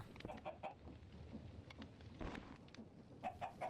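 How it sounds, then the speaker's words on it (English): A chicken in a video game clucks faintly in a few short, repeated calls near the start and again at the end, over a quiet low rumble. "How did I forget our chicken was in this corner?"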